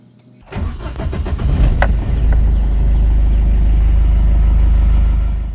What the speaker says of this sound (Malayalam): ഇനി ഞാൻ വാഹനം ഒന്ന് സ്റ്റാർട്ട് ചെയ്യാൻ പോവുകയാണ്